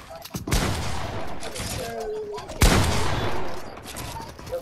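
Gunfire in a video game sounds as two sharp bursts of shots a couple of seconds apart, moderately loud over a faint background of voices.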